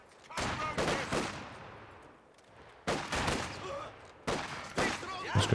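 Machine gun bursts and rapid fusillades from a real-time strategy game battle with conscripts and grenadiers, coming in three loud clusters separated by quieter lulls, with some faint voice mixed in.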